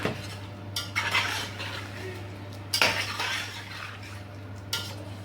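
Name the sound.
stirring and frying meat with ginger garlic paste in pot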